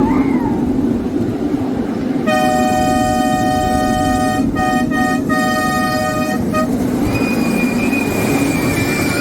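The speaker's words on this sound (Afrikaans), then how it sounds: "daar's 'n groot stoomtrein, wil jy saamkom sin?" A steam train rumbles steadily while a loud multi-tone horn blasts for several seconds, followed by a high metallic squeal.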